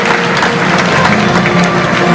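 An audience at a youth football award ceremony applauds a player in a loud, sustained burst of dense clapping that fills the whole moment.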